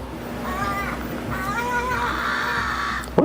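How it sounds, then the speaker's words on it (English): A crow caws in a short series of harsh, wavering calls, moderately near, over a steady background hum. "There's a crow."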